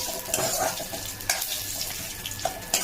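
Vegetables for dal fry and sizzle in a pan up close, with steady crackling and a few sharp scraping stirs.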